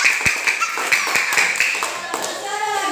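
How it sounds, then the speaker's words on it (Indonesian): A class of students claps in a classroom lesson, producing a steady patter of close, sharp hand claps with voices talking over and around them. "Terima kasih, tepuk tangan Bu."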